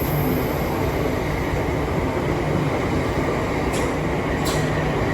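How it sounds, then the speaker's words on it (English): A Southeastern passenger train departing London Charing Cross for Sevenoaks, a steady rumbling roll of wheels and motors filling the station, with two brief high squeals near the end and no talk. "as the 1610 Southeastern service from London Charing Cross to Sevenoaks departs"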